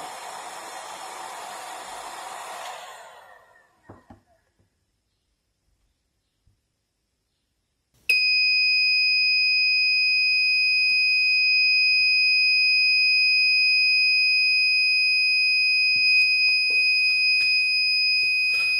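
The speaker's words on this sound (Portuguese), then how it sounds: "a central irá disparar novamente a sirene e os sinalizadores audiovisuais" Ouzer Electronics wireless fire alarm central setting off its siren: after a burst of hissing and a near-silent pause, a loud, piercing steady electronic tone starts abruptly and holds unbroken for about ten seconds with no talk.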